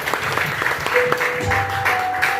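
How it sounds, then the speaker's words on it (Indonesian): Church congregation clapping for Jesus during a worship service, a short burst of moderately loud applause with distinct individual claps and a sustained musical tone or voice underneath. "Tepuk tangan buat Yesus kita."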